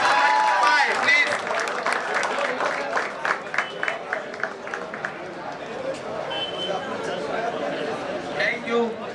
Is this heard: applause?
yes